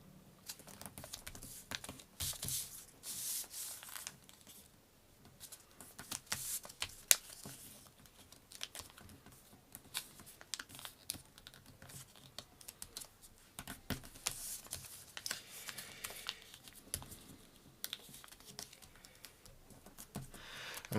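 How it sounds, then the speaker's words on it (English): Paper folded into origami by hand: soft close crinkles, taps and pressing creases in irregular quiet bursts, with no talking. "I'm going to fold the 4 corners into the middle again"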